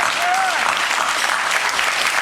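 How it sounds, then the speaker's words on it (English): An indoor audience gives sustained applause at a club event, a dense, steady clapping wash that holds at full strength throughout. "Thank you so much, and we applaud you."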